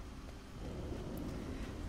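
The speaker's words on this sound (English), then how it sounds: "Of course, it starts to rain in the middle of a tour." Steady rain with low thunder rumble in a Disney Dreamlight Valley video game, a continuous muffled wash that swells slightly partway through, soft and distant.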